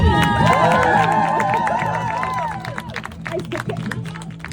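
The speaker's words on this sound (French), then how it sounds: "Applaudissez-le quand même!" A lively crowd cheers and claps, with excited voices over the applause, loud at first and tapering off slightly toward the end.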